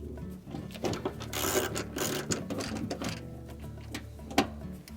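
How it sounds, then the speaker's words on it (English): Screws being driven back into a Frigidaire refrigerator cover during a defrost thermostat repair, giving irregular close mechanical whirring and ratcheting bursts with small clicks and knocks, no talking. "then reinstall the 2/4 inch screws"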